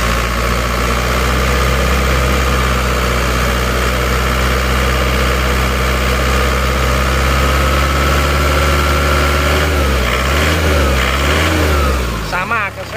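An Isuzu Panther diesel engine idles loudly and steadily up close at its 90-degree running temperature, then its revs swing up and down in a few quick throttle blips near the end.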